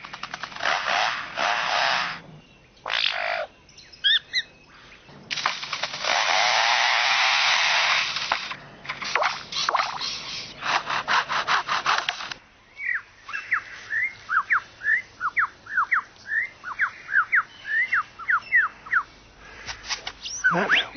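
A lyrebird mimics foresters' chainsaws, loud roaring motor-like bursts that rise and cut out, followed by rapid metallic chips and chirps, close and clear with short gaps between phrases.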